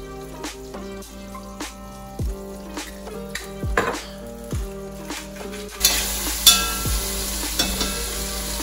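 Chicken seasoned with salt and pepper sizzles and fries in a pot, a steady close crackle punctuated by repeated scraping stirs and clinks of a utensil, growing hissier toward the end.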